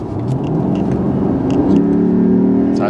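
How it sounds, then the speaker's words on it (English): A 2008 Lexus ISF at full throttle from 80 km/h in eighth gear, the engine rising from a deep rumble into a building, steady roar, loud and close from inside the car. "I'm sitting in eighth gear, I'm going 80 k's an hour. If I just mash it, let's see how long it takes before I'm going full bore."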